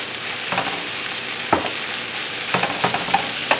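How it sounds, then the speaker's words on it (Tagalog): Pork sizzles and fries in a pan for sauteed chayote, with a steady crackling hiss broken by several scraping stirs of a utensil, close up and without talk. "Lutuin lang natin ito hanggang sa mag-brown na yung pork."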